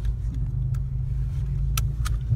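Inside a car in Mexico City, a low engine hum rumbles steadily at close range, with a few sharp clicks and rattles over it and no talking.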